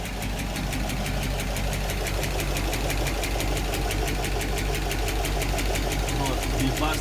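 A Soviet GAZ-66 truck runs with its pre-heater going alongside the engine, a steady close rumble with rapid regular ticking pulses throughout while people talk over it.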